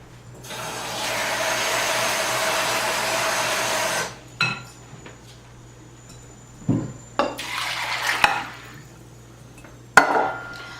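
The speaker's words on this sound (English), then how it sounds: "now I'm going to fill up this bowl and add water to it" Steady rushing tap water pours into a bowl for about four seconds, then stops; later come short clatters and knocks of dishes and a brief second gush of water.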